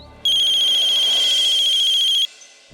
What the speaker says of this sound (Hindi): एक सेकंड दोस्त, फोन है।